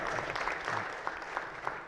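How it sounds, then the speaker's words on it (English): Steady applause from people in a state Senate chamber, a continuous wash of many hands clapping at moderate level for the whole stretch. "That's right, you can clap."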